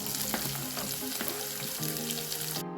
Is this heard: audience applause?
no